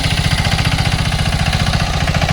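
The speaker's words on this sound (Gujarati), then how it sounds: "એન્જિનમાં પણ બહુ લાંબો ફરક નથી પડતો અવાજમાં એન્જિન પણ બહુ દબાતું નથી" A Sanedo three-wheel tractor engine pounds away on hard ground, close and loud, with a fast, even, thudding rhythm like a jackhammer that stays steady throughout, and no voices.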